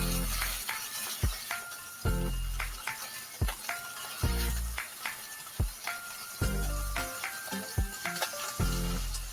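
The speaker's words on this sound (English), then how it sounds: "Now that our beef is sizzling" A beef burger patty sizzles and crackles in hot oil in a frying pan, a steady close hiss punctuated by repeated sharp pops and spatters, with no talking.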